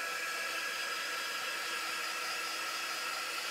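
A hair dryer blows steadily on a stenciled wooden craft block, producing a loud, even, close-up whoosh of rushing air that holds constant the whole time with no voices.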